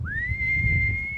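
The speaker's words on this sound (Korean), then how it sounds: "휘파람을 불어서 좀 확인하는 거예요." A local guide in the grasslands of northwestern Tanzania gives one long, steady, clear whistle, rising briefly at the start and then holding a single high pitch, loud and close over faint low background rumble.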